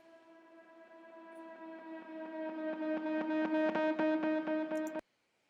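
Reversed, pitched and distorted electric piano tones swell from soft to loud in a sustained, buzzing chordal drone with a rhythmic pulse, then cut off abruptly near the end.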